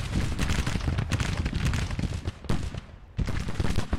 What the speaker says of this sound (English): So the 3rd CS came up here and fired a volley right into the rear of the 2nd Brigade.